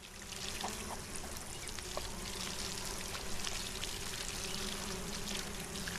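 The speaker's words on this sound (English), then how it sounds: "I need to water all these." Plants are watered in the survival game SolarPunk: a steady, continuous pour of water splashes and trickles for several seconds at even loudness, with faint background hum and no talk.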